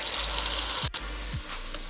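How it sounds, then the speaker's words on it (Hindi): Tomato paste goes into onions already frying in a pan, the steady sizzle dipping for a moment as it lands, followed by a couple of soft stirring scrapes as the frying carries on close by. "अब इसमें टमाटर का पेस्ट डालेंगे।"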